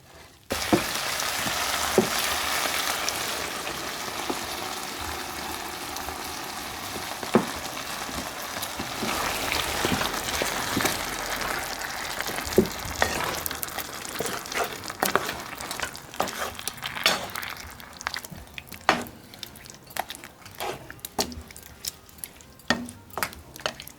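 Butter chicken sauce, blended and poured over buttered chicken, sizzles and crackles steadily in a hot pan, a dense spattering hiss with scattered sharper pops growing more distinct toward the end.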